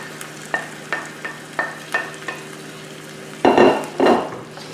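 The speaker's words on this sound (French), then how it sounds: "Et maintenant, je vais verser le mélange de tomates à l'intérieur." A light series of stirring clicks in a pan of chicken drumsticks is followed by two short, noisy gushes as a tomato mixture is poured in and hits the hot pan.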